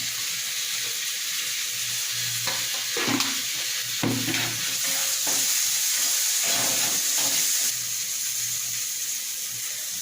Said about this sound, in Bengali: এরপর আমি দিয়ে দেব হলুদ গুঁড়ো আর সামান্য মিষ্টি দিয়ে আমি এটাকে ভাজতে থাকবো